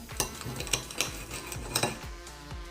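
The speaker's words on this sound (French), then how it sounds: "Alors je les coupe dans la longueur, moi je préfère." A knife slices lengthwise through a breaded cordon bleu on a board, with several sharp taps and clicks of the blade hitting wood and light utensil clatter, close and fairly loud, no voices.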